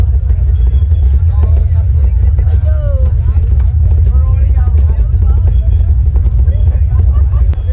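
A generator runs beside a DJ setup at a large DJ competition during the Kabad Yatra event in Sehore, giving a loud, steady low rumble that continues without a break beneath crowd babble and voices.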